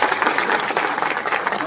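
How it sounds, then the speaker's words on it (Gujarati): A crowd claps to welcome a guest, a thick, steady burst of applause from many people that stays loud and even for its short length. "તો સૌ લોકો તાળીઓ મારી એમનું સ્વાગત કરીશું"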